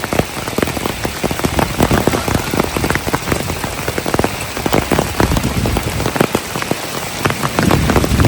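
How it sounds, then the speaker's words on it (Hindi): Hail pours down steadily in Batumi, Georgia, a dense, loud patter of many small impacts drumming on surfaces close by for the whole stretch, with no talking. "तो हेल गिर रही है बाटूमी में"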